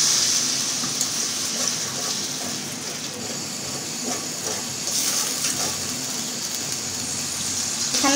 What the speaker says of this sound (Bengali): আমি এখন একটু পানি দেব।